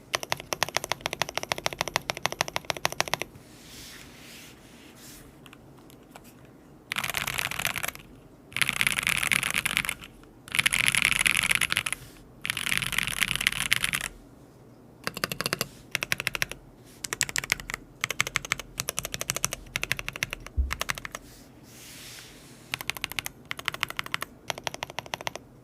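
Fast clicky typing on a 60% mechanical keyboard, with a distinct spacebar among the keystrokes, coming in loud close bursts separated by brief pauses.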